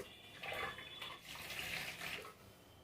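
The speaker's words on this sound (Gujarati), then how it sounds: "ચોખાને આપણે પાણીથી સરસ 2 વાર ધોઈ લેવાના" A cup of rice is rinsed with water inside a pressure cooker, giving close, steady swishing and sloshing water in a few bursts with short pauses.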